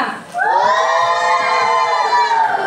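A class of students in a school lesson shouts and cheers together in one sustained, loud, high-pitched collective yell lasting about two seconds, close and filling the room.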